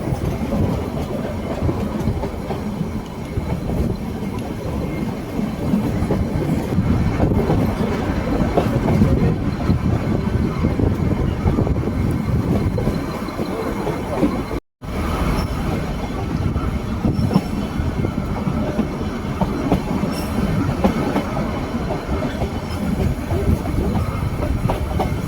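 The Ooty to Coonoor toy train runs on the mountain railway, giving a dense, continuous rumble with rhythmic wheel clatter and squealing wheels, recorded close by from aboard for over twenty seconds with a momentary break.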